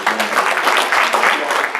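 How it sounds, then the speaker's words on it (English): Conference audience applauding after a call for a round of applause, a steady wash of clapping from many hands filling the whole stretch at even loudness. "So give them a big round of applause."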